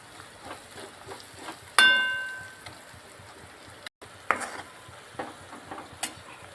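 Coriander-cumin powder and chili are stirred into onions frying in a pan for bitter gourd curry, with a soft continuous sizzle broken by sharp clinks and scrapes of a spoon against the pan.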